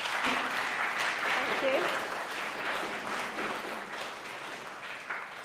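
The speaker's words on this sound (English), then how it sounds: "Can we have a round of applause, please?" Audience applause at the close of a talk, a dense steady patter of many hands filling the room, with a brief spoken thanks heard over it.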